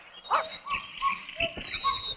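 Cartoon dog yipping and whining in a 1959 animated adventure, a few short, excited, high-pitched barks and whimpers against a faint background, no speech.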